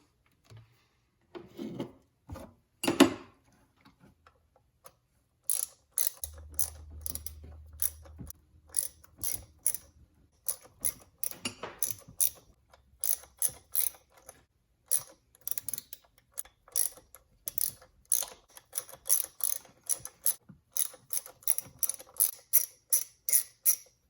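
Ratchet working torque screws loose on a Dodge Hellcat supercharger pulley: a long series of quick, sharp clicking bursts at close range, irregular at first and then steady and rhythmic, with a brief low hum early on.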